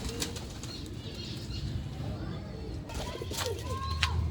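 A pigeon being handled flaps its wings in quick, rustling bursts, with soft cooing and a voice close by.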